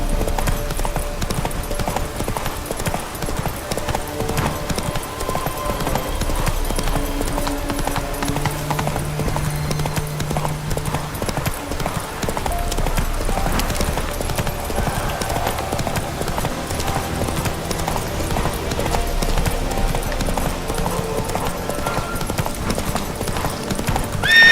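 Horse hooves clip-clopping steadily at a gallop in the video game Witcher 3, a loud continuous drumming rhythm with occasional whinnies and a background music score.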